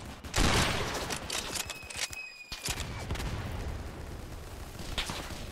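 Sniper gunfire in the Roblox video game, a dense, loud barrage of shots and booms running almost continuously, with a brief lull near the middle before the heavy firing resumes.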